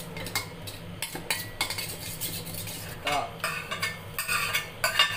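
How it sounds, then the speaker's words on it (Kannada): A spoon stirring a curd (dahi) mixture for garlic bread in a bowl, making repeated clinks and scrapes of metal against the dish in an uneven rhythm, close and fairly clear. "ನಾವು ಸ್ವಲ್ಪ ದಹಿ ಹಾಕುವ, ಅದಕ್ಕೆ ಹಾಕಿ ಸ್ವಲ್ಪ ಮಿಕ್ಸ್ ಮಾಡುವ"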